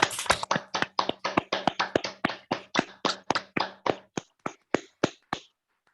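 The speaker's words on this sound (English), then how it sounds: "Can we have a hand of applause for Margaret" An audience applauds a poetry reader with a brisk run of about twenty distinct, close hand claps that thin out and stop, leaving silence at the end.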